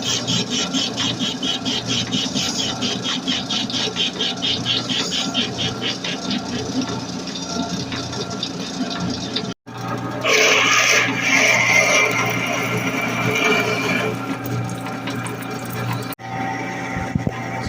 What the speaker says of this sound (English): So this is a hole that I'm boring through the entire piece for the axle